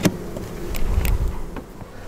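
Honey bees buzz around a beehive, close individual insects droning past in short swells over a soft outdoor background.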